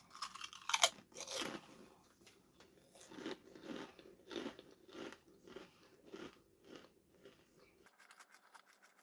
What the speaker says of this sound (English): that felt like I was chewing that for about 5 minutes